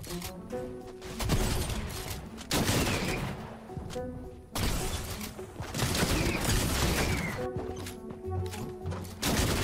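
Bursts of rapid gunfire from a Fortnite match arrive in several clusters separated by short pauses, crackling sharply and fairly loud, with no one talking over them.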